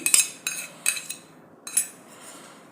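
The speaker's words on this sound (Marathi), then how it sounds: "आता मी इथं एक तीन चमचे दही घालून घेते" A metal spoon clinks against a bowl several times in short, separate bursts as spoonfuls of curd go into a rice flour and semolina batter, close and crisp with quiet gaps between.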